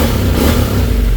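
A 2016 Honda NC700X motorcycle engine revs loud and close, a steady, dense mechanical roar held through the whole moment with no voices over it.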